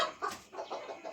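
Several roosters cluck in short, uneven bursts, close and fairly loud, with no talk over them.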